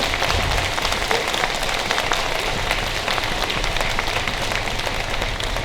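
A crowd at a time capsule ceremony applauds dignitaries and retired staff with loud, dense, continuous clapping that sounds like a rush and stays level the whole time.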